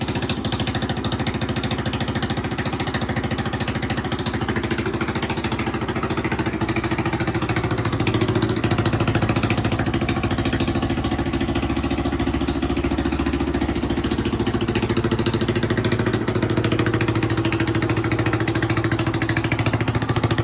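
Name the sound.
motorcycle engine idling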